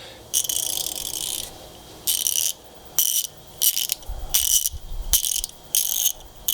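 A Craftsman ratchet clicks in about eight loud, close bursts of rapid fine ratcheting, separated by short pauses.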